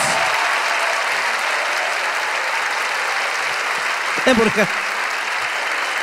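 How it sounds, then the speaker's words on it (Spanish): Strong, continuous applause from a comedy show audience, dense and loud throughout, with a brief voice breaking through near the end. "Un fuerte aplauso para ellos."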